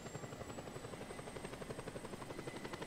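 A helicopter flies in Just Cause 2, its rotor chopping in a fast steady pulse with a whining turbine tone, close and constant with no voices.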